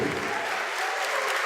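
A church congregation applauds during a sermon, a dense, steady wash of many hands clapping together that fades to a thinner patter near the end.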